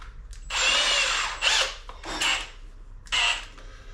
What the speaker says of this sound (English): So even though the drill is going quite fast, when I hold this, it drives it slow.